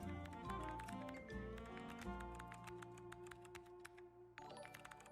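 Keyboard keys typed while playing a typing game, a quick run of light, sharp clicks mixed under a steady musical backing, with a brief pause before a fresh burst of typing.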